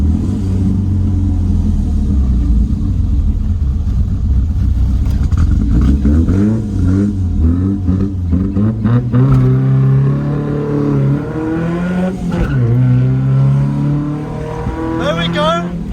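A modified Datsun 1200 ute with a four-speed gearbox, its engine loud and revving up and down through the gears while driving, a rough rising and falling drone heard from inside the cab as people talk over it.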